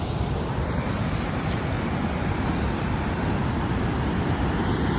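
Floodwater rushes hard through a dam after a night of heavy rain, a steady, dense roar of churning water heard close and unbroken throughout.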